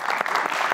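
Short burst of studio audience applause on a Persian-language Family Feud game show, brisk and close, with clapping swelling in pulses under faint talk.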